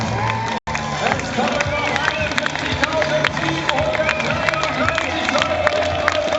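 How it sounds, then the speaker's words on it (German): Steady crowd noise with cheering and scattered applause at a Frankfurt Chase Run 2014 finish, a dense roar continuing under an announcer's talk throughout. "jetzt brauchen wir einen Dauerapplaus"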